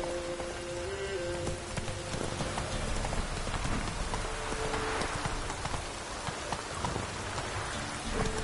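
Roach, the horse in The Witcher 3, clip-clops steadily over steady rain, hoofbeats continuous and moderately close with a soft wet backdrop throughout.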